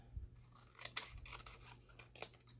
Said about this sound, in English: I'm going to cut that just a little bit. Get my scissors.